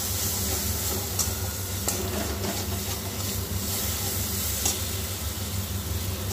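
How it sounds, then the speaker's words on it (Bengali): Jackfruit and potatoes being stir-fried in a spice paste over a lowered gas flame for an Echor Chingri dish, with a steady close sizzle and hiss and a few sharper scrapes of stirring throughout. "এবার গ্যাসটা একটু কমিয়ে আমি মশলাটার সাথে এঁচোড় আর আলুটা খুব ভালোভাবে কষিয়ে নেব।"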